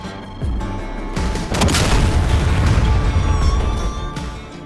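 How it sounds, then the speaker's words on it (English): Bombs exploding on an SA-6 surface-to-air missile site in the flight simulator DCS World, a loud booming double blast followed by a sustained rumbling roar that slowly fades. "Wait for the bombs to do their trick."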